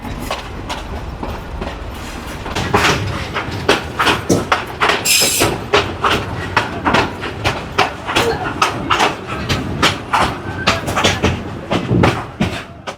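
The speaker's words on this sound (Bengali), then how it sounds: "আমাদের ট্রেনের গতি হচ্ছে মাত্র দশ থেকে পনেরো" A Ramna local train rolls slowly over a weak, poorly kept rail line near Kurigram. Steady clickety-clack wheel beats and rattling carriages sound from inside the car, with a brief squeal partway through.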